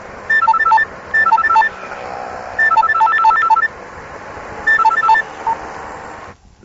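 A telephone ringing in repeated electronic bursts, four or five clear trilling rings separated by short pauses, loud and close against a low background hum, no voices over it.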